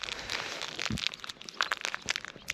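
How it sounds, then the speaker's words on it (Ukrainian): A plastic bag picked up and crinkled outdoors at a fishing spot, giving close, sharp, irregular rustles and crackles over a couple of seconds. "А от пакетик тепер я заберу."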